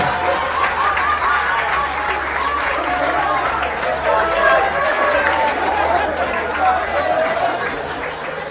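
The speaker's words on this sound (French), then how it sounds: "Applaudissez pour le général." An audience at a general's rank ceremony applauding, steady clapping mixed with crowd chatter and a voice over a loudspeaker, with a low hum underneath.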